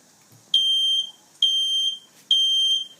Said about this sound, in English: Let the fire alarm keep ringing